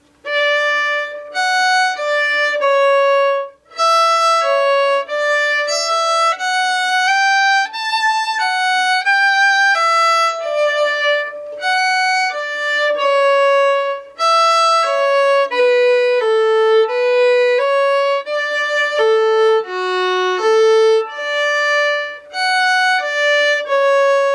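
Solo fiddle plays the opening measures of the Irish reel Drowsy Maggie, a quick stream of bright bowed notes in a steady running rhythm, close and clear with no speech.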